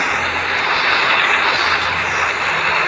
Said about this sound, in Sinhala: දැන් ඉතින් guys මේ ප්ලේන් එකෙත් මේ එන්ජින් ටික ඔන් කරගත්තා